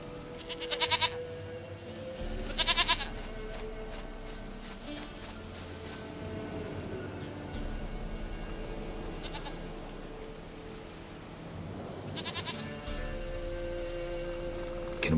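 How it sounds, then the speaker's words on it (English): A goat in The Witcher 3 bleats three times in short, loud calls spaced several seconds apart, over quiet game ambience with faint background tones. "Goat of mine, dearest, sweetest goat."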